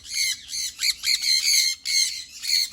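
A pair of adult sun conure parrots give loud, shrill squawks in repeated bursts close by, with brief gaps between the calls.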